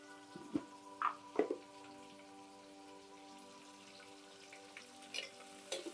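Faint sizzling of curry leaves frying in hot oil, with a few sharp pops and crackles scattered over a low steady hiss.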